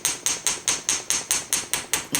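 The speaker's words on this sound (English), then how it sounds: "And get it back into shape and start hammering again." Metal hammer striking a wire-wrapped wave necklace being flattened back into shape, about nine sharp, evenly spaced ringing taps in steady rhythm, close and fairly loud with no talking.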